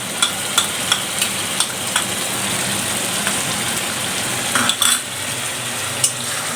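Spices being sautéed in mustard oil in a pan, giving a dense, continuous sizzle with a regular series of metal utensil taps and scrapes as they are stirred.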